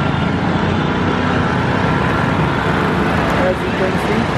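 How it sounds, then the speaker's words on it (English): Continuous rumble of busy road traffic at the Thakkar Bapa Nagar cross road in Ahmedabad, near a city bus stop, with engines droning steadily and a few faint horn-like tones near the end. "it is high traffic zone road."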